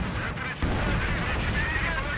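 An ISU's artillery shell slams home in Company of Heroes 2, a dense, continuous roar of battlefield fire and booming impact with a sharp surge partway through, loud and close.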